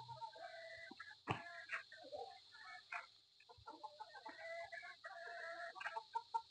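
A White Kelso chicken clucks in a run of short, repeated calls at a farm poultry yard, with other fowl sounding around it, moderately near and without talk.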